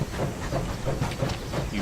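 Nearby train in a farming game rolling along the tracks, a rumbling rush with a faint repeating clatter of wheels, brief and fairly quiet.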